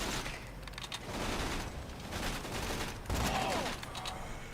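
Dense video-game gunfire, including sniper rifle shots, rattles continuously in a loud, close barrage of overlapping bursts and booms with no clear gaps.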